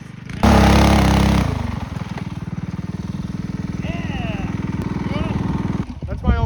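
A mini bike racing at a Wisconsin mini bike gambler event, engine buzzing loudly and steadily at high revs close by, with excited voices talking and cheering over it.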